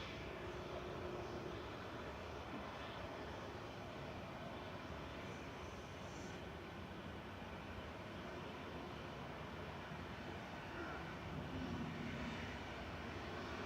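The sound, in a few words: Boeing 737-800 jet aircraft departing Manchester Airport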